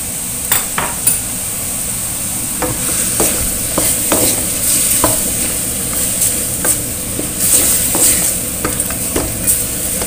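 Spice paste of turmeric, galangal and ginger frying for chicken soup, a steady loud sizzle broken by sharp scrapes and taps of a utensil stirring against the pan, with no voices.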